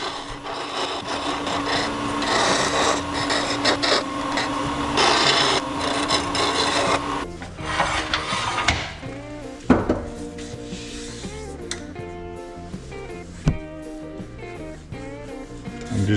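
Lathe turning a blank made from coffee beans, with light cuts giving a continuous scraping, rasping sound that grows busier and more uneven toward the middle, with occasional sharp knocks and a few faint clicks.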